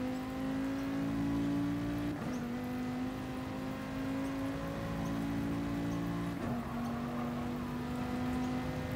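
A Trail SE5 GR3 race car in a racing video game screams through a qualifying lap, its steady high engine note dropping briefly at two gear shifts before climbing again, loud and continuous with no talk.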